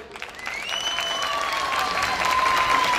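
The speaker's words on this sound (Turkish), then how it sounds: "Başta kıymetli belediye başkanımıza bir alkış." An audience applauds the mayor at a regional Black Sea cultural days stage event, a short burst of dense clapping that swells steadily, with a faint tonal whistle running through it.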